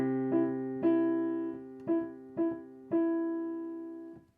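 Piano playing the first section of Jingle Bells with both hands, a low held note under five or six separate right-hand notes that ring out and fade, clear and close, with no talking.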